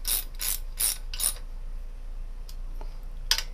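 A hand ratchet snugs bolts on supercharger pulley brackets of a 144 blower on a small-block Chevy, giving four quick bursts of clicking, then a couple of faint clicks and one last short burst, close and clear.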